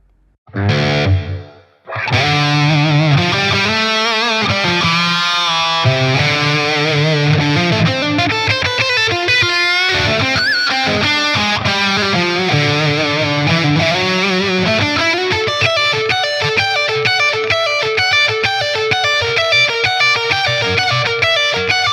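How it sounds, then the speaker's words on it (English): Heavily saturated, distorted high-gain electric guitar through a ToneX ONE amp model playing a sustained lead line, washed in reverb and a shimmering modulation effect, loud and continuous after a brief opening burst. "And let's add some reverb to it."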